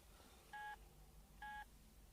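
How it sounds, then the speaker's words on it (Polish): Two short electronic phone beep tones from a mobile phone, evenly spaced about a second apart, clear and fairly close against a quiet indoor background. "Już coś ci się włącza, weź wyłącz ten telefon"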